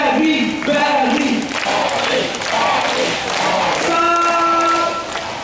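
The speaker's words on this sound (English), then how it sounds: "I want to clap your hands and start to say like this. Barry, Barry." A crowd at a bird park show in Singapore claps and chants the name of a favoured performer, loud rhythmic voices and hand claps rising together under a presenter's talk.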